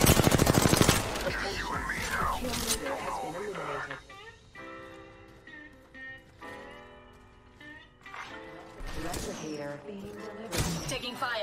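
Apex Legends gunfire erupts in loud rapid bursts at the start and returns in heavy volleys later, mixed with game sound effects, music and voiced callouts in a hectic firefight.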